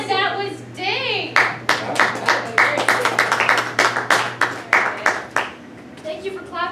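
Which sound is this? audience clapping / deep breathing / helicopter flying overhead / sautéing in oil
audience clapping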